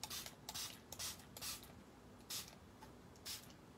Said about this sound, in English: I'm just going to spray the back a bit so the paper doesn't curl.